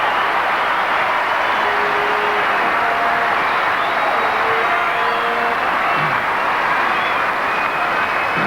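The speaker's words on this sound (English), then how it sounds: "And again, the crowd go Australia bananas." A Davis Cup final crowd roaring and applauding after a service ace at a tennis match, a dense, loud, sustained wash of cheering with scattered whistles and shouts rising through it.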